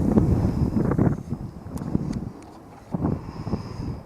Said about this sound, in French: de temps en temps il y a du vent